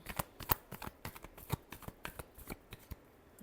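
Tarot cards are shuffled in a rapid run of crisp, soft riffling snaps, close and quiet, heard alone.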